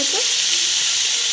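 Bengali karcha fish curry sizzles steadily in a covered pan, an even, soft frying hiss with no talking.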